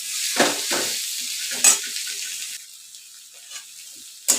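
Boiled, smashed potatoes with chopped coriander being mixed in a hot pan for Mumbai vada pav, spoon scraping in a few separate bursts over a faint sizzle, with quiet stretches between strokes.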